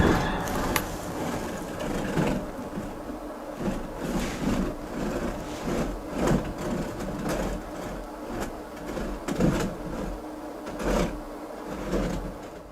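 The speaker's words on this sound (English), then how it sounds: "he finds a chair scraping across the floor on its own" A chair scrapes and grinds across a floor in a long, continuous rough rasp with repeated knocks and bumps, loud and close, with no voices.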